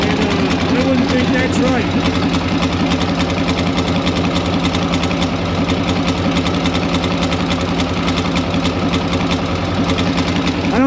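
A Harley shovelhead or flathead motorcycle engine idles steadily and loudly throughout, with someone talking over the continuous rumble.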